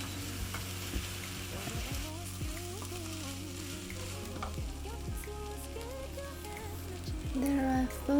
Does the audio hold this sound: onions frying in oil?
yes